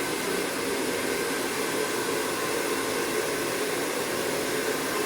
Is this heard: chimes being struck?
no